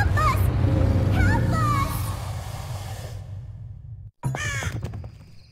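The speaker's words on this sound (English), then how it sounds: "Strange, these crows seem unusually menacing." Crows caw in the Dark Parables: Ballad of Rapunzel adventure game, several harsh calls near the start over a murmur of ambient sound, then a brief gap and a couple more cries.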